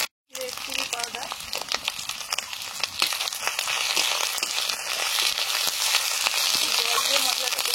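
Masala paste of meat, turmeric and red chili powder sizzling and frying hard in a pan after water is added for chicken dak bungalow, a steady loud crackling hiss with stirring scrapes throughout.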